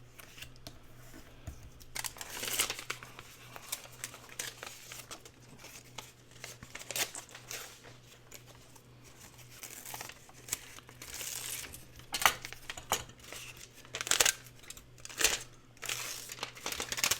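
Crinkly faux metal foil being folded and pressed around a craft card, with intermittent close crackling and crumpling bursts over a quiet background.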